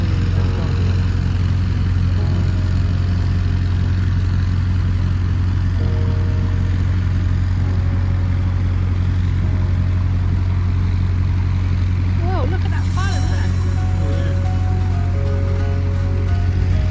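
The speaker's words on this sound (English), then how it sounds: "Speeding boat here that went on to cause quite a few problems" A speeding boat on the River Trent runs its engine as a loud, steady drone with constant low rumble and wash, carrying on without a break the whole time.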